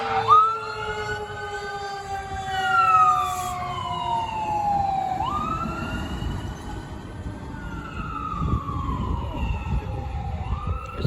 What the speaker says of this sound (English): Sounds like a fire truck now.